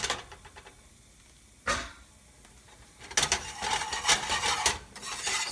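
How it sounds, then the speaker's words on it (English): A whisk scraping a flour roux around a pan, with soft intermittent rasps at first, then continuous brisk scraping strokes, close and moderately loud. "I'm going to switch to whisk"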